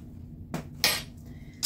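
Pork ribs tossed with baking soda and garlic in a bowl, a couple of brief clinking, scraping knocks of utensil against the bowl, close and alone.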